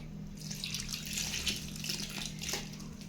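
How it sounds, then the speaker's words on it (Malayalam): Steady water streams into a container, a continuous rushing pour with a faint hollow ring, close by and without any talking. "ഇനി നമ്മളിതിൽ വെള്ളം ഒഴിക്കുക."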